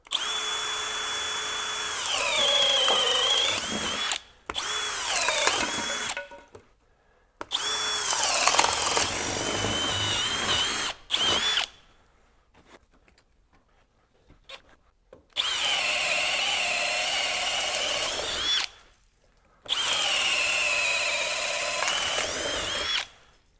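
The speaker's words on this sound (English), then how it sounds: "it's able to drive this auger harder" A Hercules HCB92B 20V hammer drill drives an auger into wood in repeated bursts of whining motor and grinding bite, separated by short silent pauses, loud and close.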